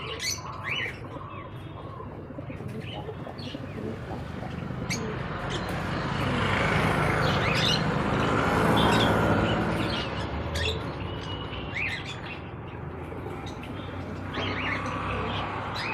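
Pigeons cooing softly in a cage at a pet shop, amid chirps and fluttery rustling, fairly near, over a steady background hum with no talking.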